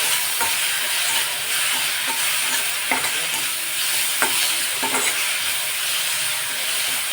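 Vegetables and soy sauce stirred in a hot pan for vegetable fried rice, a steady sizzle punctuated by occasional spoon scrapes and light clinks against the pan.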